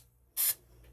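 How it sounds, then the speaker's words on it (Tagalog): One short burst of cooking oil sprayed from a can onto a tray, a bright close hiss lasting a fraction of a second in an otherwise quiet kitchen. "spray it with the cooking oil"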